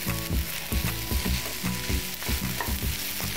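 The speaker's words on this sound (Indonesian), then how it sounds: "Kita aduk-aduk sampai semua" Thai-style fried rice with tomato sauce being stirred in a frying pan, rhythmic scraping strokes of a spatula repeating about twice a second over a continuous close sizzle, with no talking.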